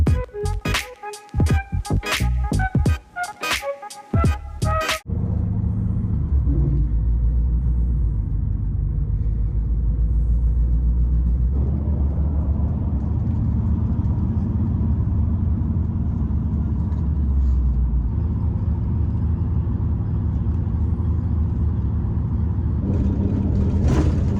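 Inside a bus travelling on the road to Vancouver, a steady low engine rumble and road drone continue for most of the stretch after a few seconds of music, with slight shifts in pitch as the bus changes speed.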